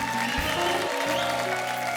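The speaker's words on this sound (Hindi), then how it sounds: "जोरदार तालियां हमारी कंगना जी के लिए।" A studio audience applauds on a comedy talk show, with dense, steady clapping that fills the room throughout, close and loud, with faint voices mixed in.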